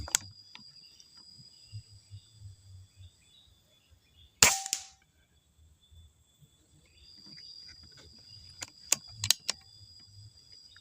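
A single sharp crack from a Marauder air rifle cuts through a quiet outdoor scene with faint insects chirping, followed by a few smaller clicks later on.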